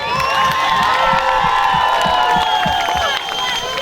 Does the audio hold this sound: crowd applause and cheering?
yes